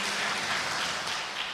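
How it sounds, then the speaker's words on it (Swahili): Crowd applause at a Ukambani political leaders meeting, a short, dense burst of clapping from many hands, fairly distant and even, with no speech over it. "tumpigie makofi"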